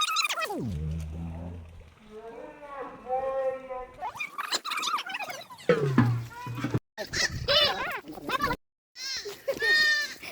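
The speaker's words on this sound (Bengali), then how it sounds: "দেখেন এই ছাগলগুলো আমি" Goats bleat in several wavering calls close by, interspersed with a person speaking.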